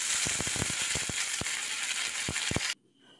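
Mustard seeds, dried red chillies and curry leaves sizzle and crackle in hot oil, a steady hiss dotted with sharp popping bursts, close and loud, stopping abruptly near the end.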